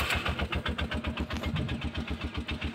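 A motorcycle engine is kicked into life and settles into a steady, rapid idle, its close, loud pulsing firing beats filling the whole stretch with no talking.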